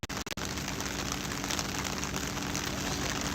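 Heavy rain pours down on a cricket ground during a Friday night T-10 match, a dense, loud, steady hiss of drops after a brief broken start.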